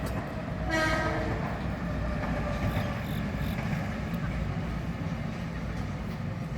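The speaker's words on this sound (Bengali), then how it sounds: "এক একটা ট্রেন এক এক রকম নাম এটা হলো মেট্রো নট" A Metro-North commuter train passes at a distance with a steady low rumble of wheels on rails, a brief horn blast sounding early on, and someone talking over it throughout.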